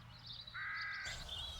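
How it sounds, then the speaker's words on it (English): Crows caw in the fantasy adventure game The Dark Eye: Chains of Satinav: a few harsh, drawn-out caws overlapping against a low ambient hum, fairly faint, with no talk. "start to deal with those crows already"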